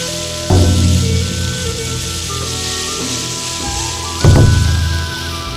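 Garlic sizzling in a hot wok while making yakisoba, a steady crackling fry with two louder bursts of searing as ingredients hit the pan, with a faint tonal hum in the background.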